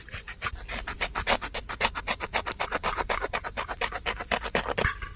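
Material is cut for a fish trap with fast, steady back-and-forth rasping strokes, close and continuous, with no voices.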